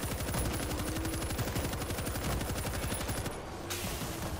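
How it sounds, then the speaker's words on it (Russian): Sustained machine gun fire in the World War Z video game, a dense rapid rhythm of loud close shots running almost without break, with a brief dip near the end. "есть у меня пулемет здесь, да? Давайте встаем сюда. И просто обстреливаем их."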